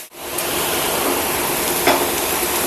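Grated coconut fries lightly in a pan, giving a steady close sizzling hiss with soft stirring scrapes and no talking over it.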